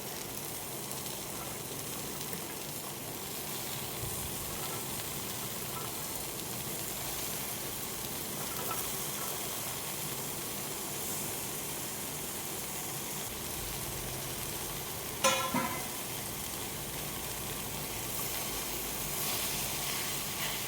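Coriander leaves and spinach sautéing in a pan give a steady, even sizzle and hiss that runs the whole time with no talk, broken once by a brief clatter partway through.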